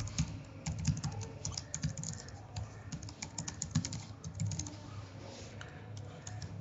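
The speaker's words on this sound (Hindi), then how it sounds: "ईमेल एड्रेस को दोबारा टाइप कर देते हैं" An email address is typed on a computer keyboard in a steady stream of soft, close keystrokes with small irregular pauses over a faint background hum.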